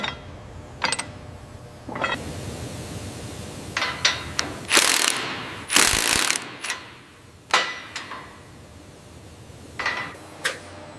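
Ratchet wrench torquing down an idler pin on a bulldozer in a factory setting, heard as several short bursts of clicking and metallic clatter spread across the clip, with louder dense bursts in the middle and no talk.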